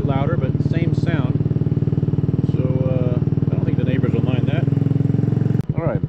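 A Maddog 150 Gen V with a modified exhaust baffle idles in a steady, buzzy drone that stays close and loud while someone talks over it. The engine cuts off abruptly near the end.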